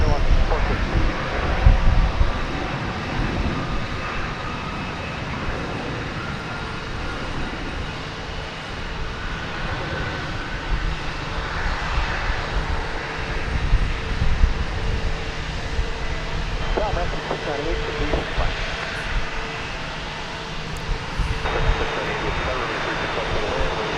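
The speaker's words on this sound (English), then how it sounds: "That is a 13-year-old 777-300 ER." Thirteen-year-old Boeing 777-300ER jet airliner at DFW Airport, a steady distant engine roar with wind noise across the whole stretch, while a person talks over it.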